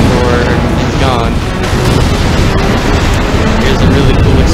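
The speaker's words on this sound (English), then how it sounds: "More explosions, very exciting" Explosions in the video game Halo 3, a dense, loud continuous barrage of booming blasts and roaring rumble that fills the whole span without letup.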